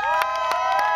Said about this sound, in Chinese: 掌声迎龙哥， 欢呼声不要停